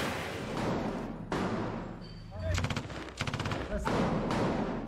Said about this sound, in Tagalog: pagsabog at putok ng mga baril ang maririnig